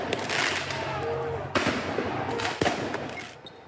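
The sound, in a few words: fireworks shot at retreating police during a riot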